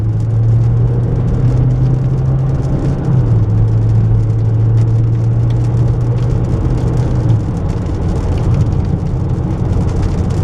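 Steady road and engine noise from inside a Chevy Trax moving at about 60 after a rear brake replacement, a constant rushing drone with a low hum that shifts pitch slightly, no voices.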